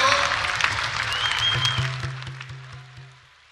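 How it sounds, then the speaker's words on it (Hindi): Audience applause at the inauguration ceremony of a national youth festival welcoming the Prime Minister; a dense wash of clapping that gradually fades, with a sustained tone and low rhythmic sounds emerging beneath it. "सब अपने स्थान पर खड़े होकर जोरदार तालियों के साथ प्रधानमंत्री नरेंद्र मोदी जी का स्वागत, अभिनंदन सब युवाओं की ओर से हो"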